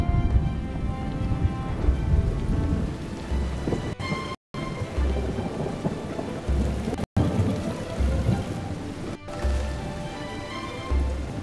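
Heavy monsoon rain pours steadily in Sri Lanka while rolling thunder rumbles repeatedly, with a few brief silent cuts between stretches of the storm.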